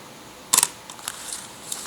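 A single short, soft mechanical click of a Leica IIIa rangefinder camera shutter, followed by faint small clicks and ticks in a quiet room.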